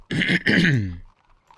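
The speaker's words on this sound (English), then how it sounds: "Sorry, I keep clearing my throat." A single rough, raspy throat clearing, close and fairly loud, two quick bursts trailing off into quiet.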